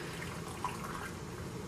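Brine poured from a pot into jars of pickled cucumbers, heard as a soft, steady liquid trickle and splash, faint and continuous with no talking.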